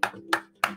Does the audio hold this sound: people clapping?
yes